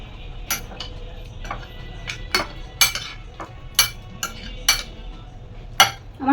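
A spoon clinks sharply and repeatedly against a bowl while food is mixed with a spoonful of cornflour. The taps come in an irregular rhythm, close and fairly loud, over a quiet background with no talking.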